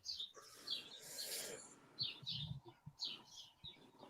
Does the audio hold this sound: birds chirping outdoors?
yes